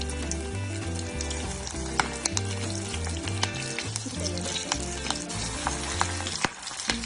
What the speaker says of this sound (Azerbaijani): Balaca qazancıya duru yağ əlavə edib, hazırladığımız budları yağın